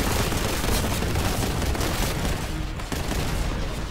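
Frag grenades in the shooter game Warhammer 40K: Boltgun burst in a dense, loud barrage of overlapping explosions and gunfire-like cracks that fills the whole few seconds without pause, with no talking.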